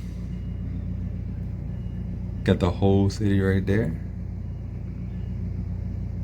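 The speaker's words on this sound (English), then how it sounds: "cars hustling and bustling on the highway" Steady low rumble of city highway traffic around Boston, cars moving continuously at a distance, with a voice briefly talking over it midway.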